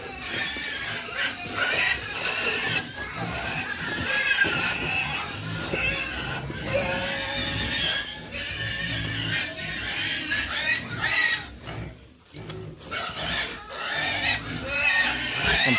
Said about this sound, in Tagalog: Nag-uugay ka na ulit ang mga baboy.